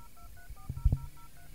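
Telephone keypad dialing produces a rapid string of short, evenly spaced DTMF beeps, quiet and clean, with a couple of soft thumps in the middle.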